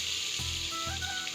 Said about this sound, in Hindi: तो प्याज को हम पहले अच्छे से भून देंगे।